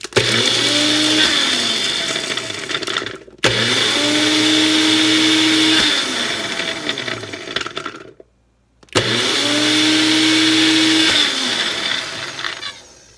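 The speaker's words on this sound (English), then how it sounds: "on the NutriBullet, and it's going to be kind of loud. I'm just going to pulse it a few times" A NutriBullet personal blender whirs loudly in three separate pulses, each several seconds long with a short silent gap between, the motor pitch shifting as contents churn.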